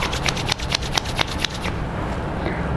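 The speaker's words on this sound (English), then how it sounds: "Close your eyes, rub your palm." Palms rubbed briskly together during a yoga eye exercise, a rapid rhythmic series of close dry swishing strokes for about a second and a half, then quiet background hiss.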